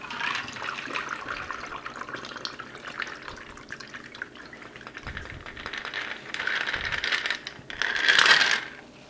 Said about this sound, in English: now we're going to pour our delicious, slightly rolled beverage into here